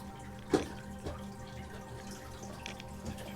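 Water trickles and gurgles steadily nearby with a couple of brief splashy bursts, a small flowing stream with no voices.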